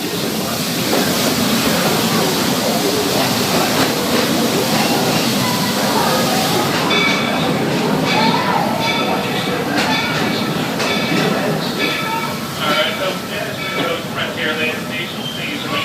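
A Walt Disney World Railroad steam train rolls into Frontierland Station in the Magic Kingdom, its loud, continuous rumble and wheel noise easing as it slows, with some squeal and clatter near the end.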